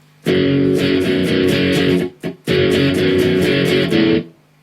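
Distorted electric guitar chugs out the short rhythmic interlude riff of a song in two bursts separated by a brief gap, loud and driving, then stops.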